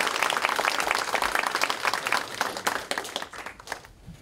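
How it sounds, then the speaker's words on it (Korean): A crowd claps and cheers to welcome a party leader at a Democratic Party workshop of its national disability committee. The applause is dense and continuous, then thins slightly toward the end. "큰 환호와 박수로 환영해 주시기 바랍니다"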